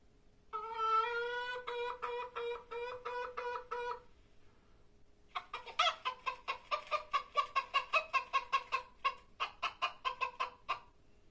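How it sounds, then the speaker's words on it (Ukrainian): A hen cackles up close: a drawn-out squawking call, a short pause, then a long rapid string of sharp clucks. "А як закричала курочка?"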